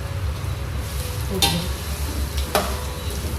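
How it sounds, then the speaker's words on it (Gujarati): Sesame seeds crackle in hot tempering oil, a loud continuous sizzle close by with two sharp louder pops or stirring clatters partway through and no voices. "જો તલ ફૂટવા માંડે ને હવે નાખી દેવાનું એટલે ફૂટીને ઉછળીને બહાર ના આવે એમ"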